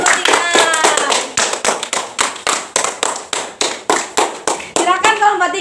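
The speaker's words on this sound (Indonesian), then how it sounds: "Beri tepuk tangannya dulu dong buat kelompok 3" Classroom of students clapping together for a group, a steady run of sharp, close hand claps in rhythmic bursts with brief gaps, loud and lively throughout.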